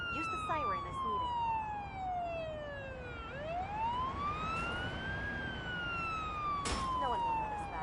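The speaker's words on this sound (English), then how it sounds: "Use the siren as needed." A video game ambulance siren wails in slow rising and falling sweeps, loud and continuous for several seconds. Faint traffic-like background noise runs beneath it.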